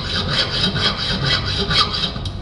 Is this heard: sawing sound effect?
yes